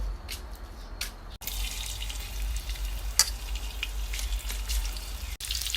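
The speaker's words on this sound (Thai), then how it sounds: "เจียวกระเทียมลงไป" Garlic fries in oil for rice fried with minced pork and egg, giving a steady hiss and crackle with a few sharp pops and clicks of the pan throughout.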